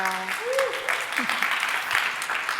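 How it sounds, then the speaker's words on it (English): Audience applause after a conference Q&A session, a steady broadband patter of clapping with a voice briefly talking at the start. "let's give Jill and Tina one more round of applause"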